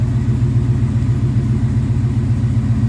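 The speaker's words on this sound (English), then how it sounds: "Idle's fine, and I don't want to rev it inside my garage" A Ford Coyote V8 swapped into a Fox Body Mustang idles steadily at about 900 rpm inside a garage, a close, loud, even low rumble with a slight lope and no revving.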